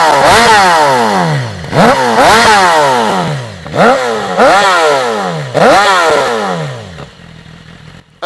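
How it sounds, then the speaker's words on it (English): A BMW S1000RR sportbike with a TaylorMade exhaust blips its throttle five times in a row, each rev shooting up to a loud ragged howl and dropping back, close and alone, before fading to idle. "the best thing about owning a BMW S1000RR before you buy it is the exhaust sound"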